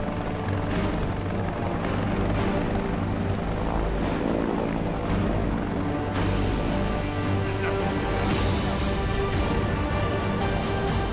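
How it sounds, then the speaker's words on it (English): A helicopter air ambulance comes in to land on a highway, its rotor thudding loudly and continuously with a steady engine whine, close and dominating throughout. "Here comes the chopper."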